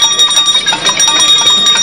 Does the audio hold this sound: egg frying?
no